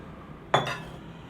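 Chopped spinach and mustard greens tipped into a metal cooking pot for sarson ka saag give one sudden close clatter with a metallic clink, then a brief rustle that fades into quiet.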